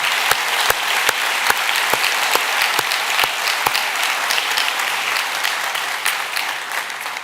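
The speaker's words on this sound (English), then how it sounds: "So I think we should give all our first responders in the province a big round of applause." A convocation audience applauds the province's first responders, a sustained loud wash of clapping from a large crowd in a hall, with sharp individual claps punctuating it throughout.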